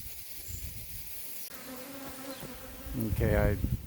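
A big swarm of about 25,000 honey bees on a peach tree gives a steady, dense buzzing hum throughout, with louder handling noise and a brief voice-like sound near the end.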